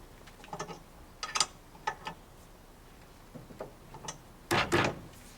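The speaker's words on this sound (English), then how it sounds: "Tube goes in and tighten up with the Allen key." Short metallic clicks and taps from an Allen key tightening a tube into a capping beam bracket on a sheet pile capping beam, coming in small irregular bursts, close and fairly quiet, with a louder cluster near the end.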